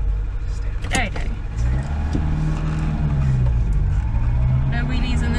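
A Peugeot car revs and accelerates hard on a hill run at a Peugeot festival, its engine note climbing in loud, close steps that fill the clip.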